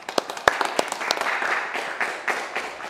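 Applause and scattered clapping for the French national MMA team, with a few sharp individual claps standing out over a steady crowd patter that runs the whole time.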